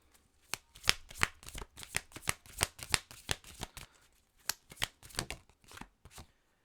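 Tarot cards being shuffled by hand at close range, a steady run of crisp riffling flutters and slaps with a brief pause in the middle, no voices.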